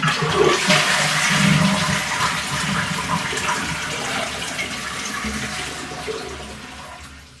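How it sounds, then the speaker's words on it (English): Toilet flushing with the water supply shut off: a strong close rush of draining water that gradually tapers away without the usual refill hiss, heard alone. "cut the supply, and then give it a flush"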